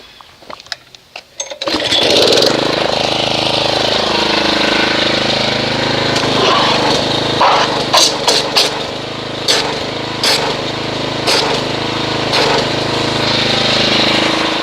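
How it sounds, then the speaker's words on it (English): Gas-powered pressure washer running steadily at close range while agitating a dense snow foam mix of Adams Red and Mastersons Mystic Snow Foam, a loud engine drone after a brief startup with intermittent sharp spray bursts. "we will agitate this with a pressure washer"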